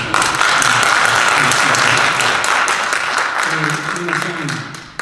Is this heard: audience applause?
yes